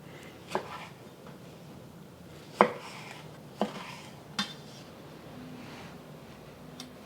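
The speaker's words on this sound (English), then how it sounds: "I'm just cutting up one tomato" A knife cuts up a single tomato on a board. Four or five sharp, isolated knocks of the blade land at irregular intervals against a quiet, faintly hissing room, with no talking.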